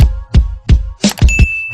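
A notification bell dings several times in quick succession, bright metallic chimes with short decays, the later strikes layered with a sustained high ring, loud and close with no talk.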